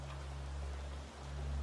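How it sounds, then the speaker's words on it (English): Steady rain falling, a soft continuous hiss of drops with a low hum beneath, even and unbroken throughout, no voices. "as the lullaby of rain continues"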